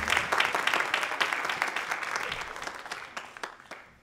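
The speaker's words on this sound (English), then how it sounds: "a big round of applause for all of them." Audience applause at a charity event, dense clapping from many people that swells at first and gradually thins out over about four seconds.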